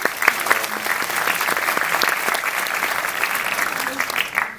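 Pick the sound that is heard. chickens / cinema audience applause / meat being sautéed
cinema audience applause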